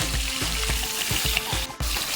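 Hilsa fish heads sizzle and crackle in hot oil, a steady close frying hiss with occasional stirring clatters.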